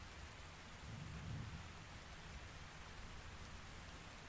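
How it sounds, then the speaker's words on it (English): Steady rain with a low rumble of thunder in the video game Ark Survival Ascended, a continuous soft hiss of rainfall rolling under a swelling distant boom near the start, with no talking. "Starting to rain now."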